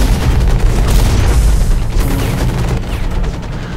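A grenade blast roars amid continuous heavy gunfire in the robot combat game Hawken, a loud dense booming barrage throughout.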